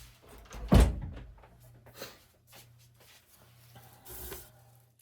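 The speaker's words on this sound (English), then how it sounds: "I'm going to shut my door real quick." A door shuts with a single solid thud, followed by quiet room sounds and a few faint knocks.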